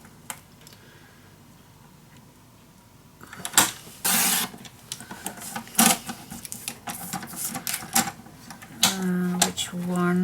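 Paper for a scrapbook mini album being cut, quiet at first, then a run of close, sharp scraping and slicing strokes with bursts of mechanical whirring, uneven and choppy, with no talk.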